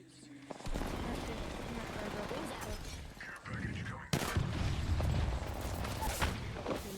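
Pistol gunfire and battle noise in Apex Legends, a dense stream of shots and mechanical clatter running for several seconds with a sharp loud burst midway, while players talk over it.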